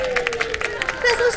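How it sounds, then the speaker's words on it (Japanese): A live audience at an outdoor idol show on the Dotonbori riverwalk in Osaka claps for the debut idol duo Pink Blossom, a short patter of applause while an emcee speaks over it. "ピンクブロッサムにもう一度大きな拍手"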